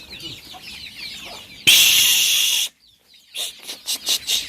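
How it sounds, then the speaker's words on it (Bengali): Young native (desi) chicken chicks peep and chirp in high, quick bursts, with a loud rush of noise partway through, then more short chirps close by. "সব দেশি মুরগি হ্যাঁ দেশি মুরগির বাচ্চা"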